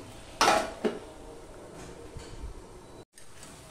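A metal lid goes onto a cooking pot of pui saak curry, one sharp ringing clank followed by a smaller knock as it settles, then quiet kitchen background.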